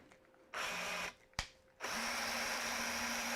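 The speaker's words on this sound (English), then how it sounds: "I can move those in there now with the screwdriver from the other side." A power screwdriver drives screws into a dog bowl and water station, with a short whirring burst, a sharp click, then a longer steady whine, all loud and close.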